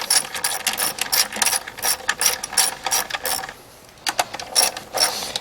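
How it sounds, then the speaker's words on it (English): Rapid ratchet clicking from a socket wrench tightening bolts on a 2005-2015 Lexus IS250 during spark plug replacement, up close in quick repeated bursts with a short pause partway through. "when you're tightening these bolts, you want to stagger how you're tightening them"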